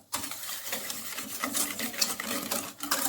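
Sugar being stirred into almond tart batter in a bowl, a steady close-up scraping and swishing of a utensil with soft rhythmic rubbing that continues throughout without speech.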